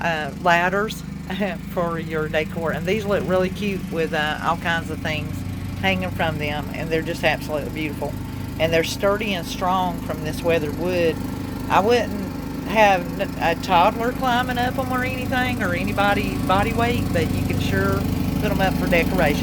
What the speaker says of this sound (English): Apologize for the lawnmower,